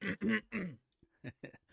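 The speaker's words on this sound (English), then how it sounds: "let me clear my throat real quick" A man clears his throat in a few quick, harsh bursts, followed by softer short grunts and a brief hum, close and fairly quiet with no words spoken.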